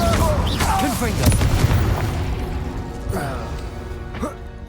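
Fire and explosive spell blasts, Incendio and Confringo, go off in the game Hogwarts Legacy as loud booming, crashing bursts, with shouted voices and creature cries over the top.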